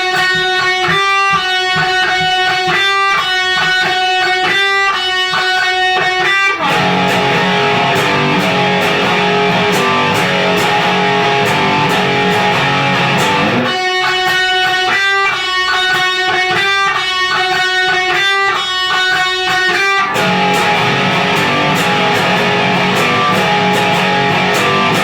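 Distorted electric guitar chugging power chords in the riff: loud, sustained and driving, alternating between tight palm-muted stabs and open ringing sections.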